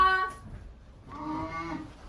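A cow lows at a rural village fair, a single drawn-out moo that swells and fades over about a second, with a short harmonic tone just before it.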